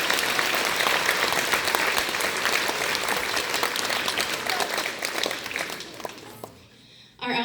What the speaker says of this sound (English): Big round of applause for our 5th graders.